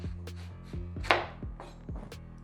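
A sharp knife slices down through an onion on a cutting board in a run of about five crisp, evenly spaced chops, close and moderately loud, with a low hum underneath.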